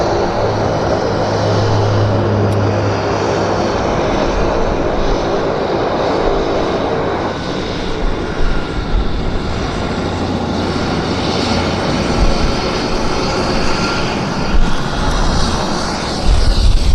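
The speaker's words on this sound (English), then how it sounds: "there's about another 3 aircraft taxiing out here, guys, so those are heavy" Aircraft taxiing at Vancouver airport: a loud, continuous engine roar and whine close by, holding steady with slight swells throughout, no voices.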